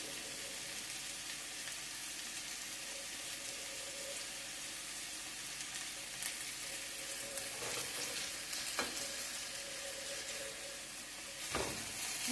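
Sirloin beef burgers cook in a covered pan over lowered heat, giving off a steady, close sizzle and hiss with occasional louder pops and crackles.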